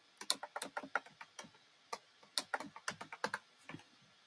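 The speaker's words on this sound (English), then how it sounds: "we're going to type a table of contents" Fingers tap a computer keyboard in quick, uneven bursts of crisp, close clicks, with a short pause midway and no voices.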